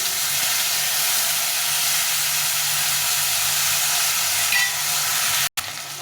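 Chopped tomato frying in oil with dried chili, cumin and bay leaf gives a loud, dense, continuous hiss and sizzle that holds steady for about five seconds, then cuts out abruptly before briefly resuming, with no talking.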